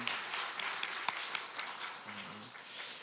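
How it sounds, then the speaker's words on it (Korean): A church congregation at a Sunday worship service claps in praise, a quiet, sparse patter of hands with a few sharper claps in a reverberant hall, faint background tones underneath. "우리 소망 되신 주님 앞에 다시 한번 영광의 박수 올려드리겠습니다."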